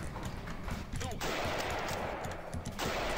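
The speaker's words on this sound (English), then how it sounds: "here I like to just kind of pick them off with the rifle for a little bit" Rifle fire in the video game Castle Totenkopf, a series of sharp bursting shots and impacts amid dense game noise, loud and continuous throughout.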